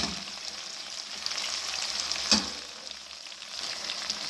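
Potatoes and chickpeas fry in a pan for a home-style curry, a continuous close sizzle of oil with one brief stir or clatter midway, no voices.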